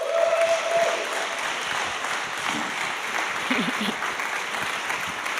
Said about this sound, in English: Please give a big round of applause for Aleyda Solis.